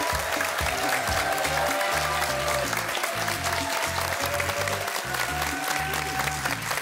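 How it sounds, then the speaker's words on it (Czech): Studio audience on a Slovak TV game show applauding, with thick, continuous clapping held at a loud, even level and a tune playing underneath. "takýmto potleskom vás budeme vítať"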